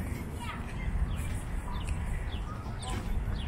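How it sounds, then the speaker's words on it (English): Birds chirp in short, scattered bursts outdoors in a New York City park over a low background rumble, with faint voices in the distance. "The birds are chirping."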